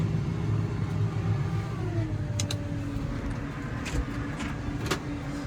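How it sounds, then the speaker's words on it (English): A snowblower's engine runs in a steady, loud rumble as it throws wet, heavy snow after a big snowfall, the motor note shifting slightly in pitch while it churns along. "So anyway, we're just blowing snow here."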